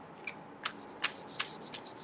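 Tarot cards shuffled by hand up close: a run of crisp, papery riffling bursts in an uneven rhythm, with no voices over them.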